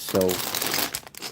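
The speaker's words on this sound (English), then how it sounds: "it's a poly bag. It's a plastic bag." Plastic poly bag of Lego bricks crinkles loudly up close for a moment, then a person begins speaking over the rustle.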